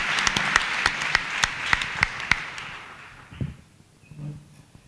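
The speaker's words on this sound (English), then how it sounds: "Can we please give Sizwe a round of applause?" A packed-house audience at a debate at the Apartheid Museum applauds a speaker. Sharp, distinct claps ring out close and loud in an uneven patter, then thin out and fade, leaving a few soft scattered sounds at the end.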